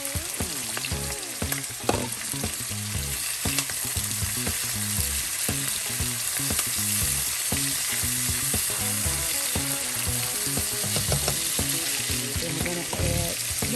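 Red peppers and onions frying in a pan, a steady loud sizzle running throughout with rhythmic clatter of stirring, no voices.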